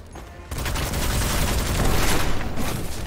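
Blight Cyst spell explosions in the video game Witchfire, a dense, loud booming roar that swells and holds for the full stretch with no speech.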